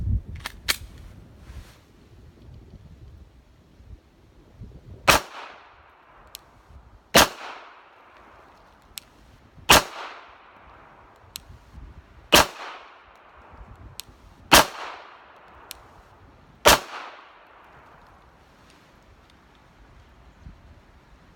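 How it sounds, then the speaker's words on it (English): Glock 42 pistol fired at an outdoor target, six or seven loud sharp shots spaced a couple of seconds apart, each with a short ringing tail, a few fainter clicks and knocks between them. "I'm going to shoot the same target that Jeff shot out here."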